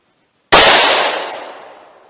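A single sharp gunshot from a Taurus 605 .357 Magnum snub-nose revolver with a 2-inch barrel, loud and close, cracking instantly and decaying over about a second and a half outdoors.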